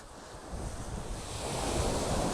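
Ocean surf breaking on an open coastline under an overcast sky, a steady wash of waves mixed with wind buffeting the microphone, swelling slightly louder toward the end with no voices.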